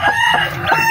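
Chickens cluck and a rooster crows nearby, loud and close, in short bursts with no talking.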